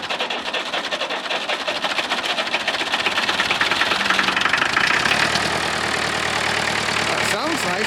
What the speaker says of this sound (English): Engine's tiny, Andrew.